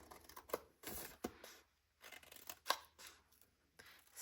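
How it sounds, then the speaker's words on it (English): Scissors trimming the squares of a paper treat box, a series of close, crisp snips and short cuts in uneven bursts separated by brief pauses, with no talking over them. "Then we're going to trim the other squares like this, but we're not going to cut them off."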